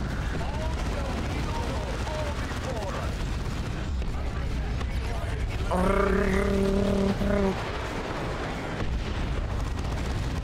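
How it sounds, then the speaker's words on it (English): Space Marine plasma weapons fire in a Warhammer 40K: Dawn of War 2 Retribution battle, a dense, rumbling barrage with a brief humming tonal burst midway, set under steady combat noise and a talking voice. "Fire the plasma!"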